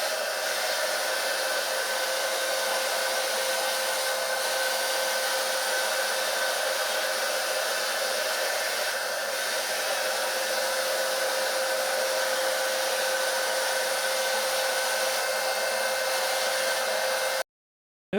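Bosch PFS 3000 paint sprayer applying masonry paint with a small nozzle and low paint and air flow, giving a constant hissing, blower-like whoosh that runs unbroken for about seventeen seconds before cutting off.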